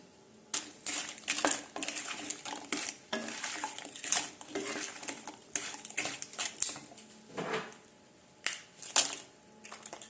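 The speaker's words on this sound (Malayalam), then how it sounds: "ഇത് നമുക്ക് ഇനിയിപ്പം ശർക്കര പാവ് കാച്ചതിനകത്തോട്ട് ഇടാം." Crisp fried finger papad is tipped into thick jaggery syrup in a pan, with scraping, stirring and light clattering of a utensil against the pan in close, irregular bursts.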